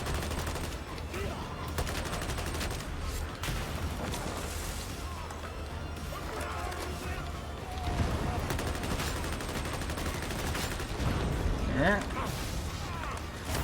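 Continuous gunfire pours into a horde in the Warhammer 40,000 game Darktide, with rapid bursts and crashes under background clatter while a voice talks over the fighting.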